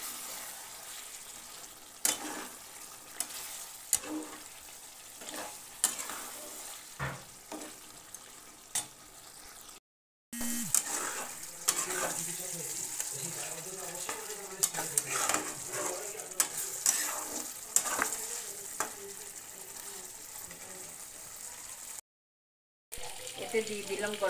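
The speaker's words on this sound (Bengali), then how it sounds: "এবার দিয়ে দিলাম কাজু পেস্ট করে রেখেছি, কাজু পেস্ট দিয়ে মিশিয়ে নিলাম।" Chicken masala with cashew paste being stirred in a pan: a moderate sizzle under repeated spoon scrapes and knocks, broken by two short silent gaps, with faint speech in places.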